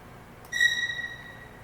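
A single short, loud, sharp violin spiccato attack from a string section sample, a bright tone that rings briefly and fades, heard alone.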